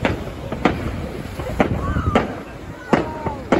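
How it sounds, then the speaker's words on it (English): Bonfire night fireworks go off over Clacton Pier as a series of sharp, echoing bangs at irregular intervals, some with faint crackle. Crowd chatter and voices murmur underneath. "I'm filming the fireworks"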